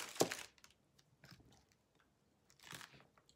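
Close, quiet crunching bites into the firm part of lettuce from a Chick-fil-A Cobb salad, a sharp bite at the start, soft chewing, then another crunchy bite, with no talking.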